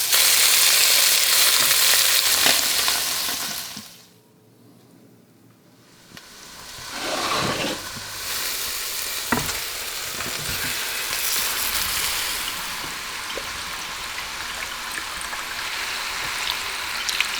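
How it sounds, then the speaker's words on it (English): Chicken and pork pieces browning in a pan for Filipino adobo give a loud, steady broadband sizzle that drops away briefly midway, then returns with occasional stirring scrapes. "you get a nice bit of browning on the meat"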